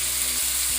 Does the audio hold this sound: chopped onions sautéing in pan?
yes